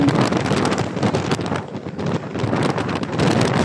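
Strong wind and heavy rain during a stormy loop drive between Infanta and Real, where no mountains block the wind, sounding as a steady, loud, dense roar with gusty swells throughout.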